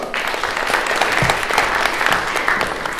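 Audience applause at a poetry reading in an estate venue, steady close clapping from a room full of listeners that holds for the full three seconds without a break.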